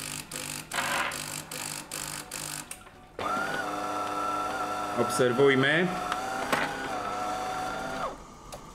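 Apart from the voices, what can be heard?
electric heater element heating flowing water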